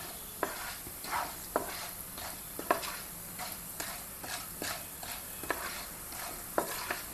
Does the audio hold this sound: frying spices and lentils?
yes